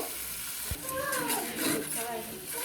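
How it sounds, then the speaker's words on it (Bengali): Turmeric, chilli and coriander powders sautéed in a pan for a small fish curry, a steady sizzle with scraping stirs and a brief thump, close by under light background noise. "মশলাগুলো ভালো করে কষিয়ে নিব।"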